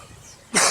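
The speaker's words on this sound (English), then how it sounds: "still have a cough." One sharp, close cough bursts out after a brief quiet lull, loud and breathy.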